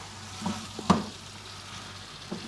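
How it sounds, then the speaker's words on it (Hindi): Pieces of ridge gourd (tinda) fry in a spiced masala in a pan. A soft, close sizzle runs throughout, broken by a couple of brief stirring scrapes, and no one speaks. "अब हमने टिंडों को अच्छी तरह मसाले में फ्राई करना है"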